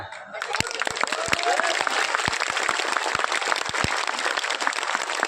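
An audience at a festival event in India bursts into sustained, dense applause, with many hands clapping loudly for several seconds and a voice speaking over the clapping.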